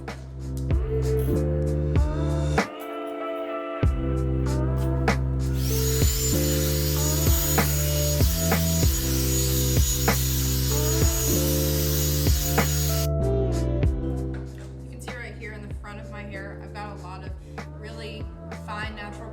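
A Revlon One-Step hair dryer brush runs steadily at close range, a loud continuous whirring blow with a high tonal whine, briefly dipping and shifting in pitch as it works through hair.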